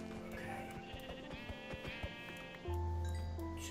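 Sheep bleat in the video game Minecraft over a busy backdrop of game sounds, and a loud, close bleat comes near the end.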